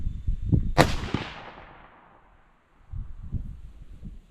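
A single loud 25 Creedmoor rifle shot fired during a load test with H4350 powder, a sharp close crack with a long decaying boom, followed by faint low rumbling and handling noise.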